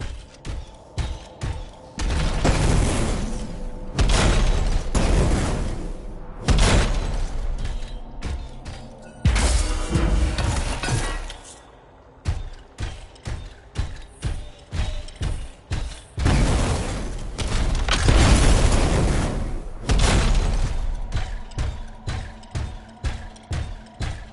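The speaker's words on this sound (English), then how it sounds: "It'll be a contained explosion." Explosions and combat in the Anthem video game: heavy, repeated booms and thuds with mechanical clanking, coming in dense bursts through a loud, continuous stretch without talk.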